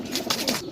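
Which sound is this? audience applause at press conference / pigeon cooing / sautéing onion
pigeon cooing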